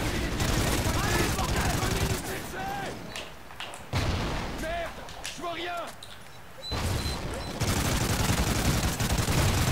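Gunfire in the Call of Duty Ghosts campaign, dense bursts of shots and booms alternating with quieter stretches, alongside a speaking voice and other in-game sounds.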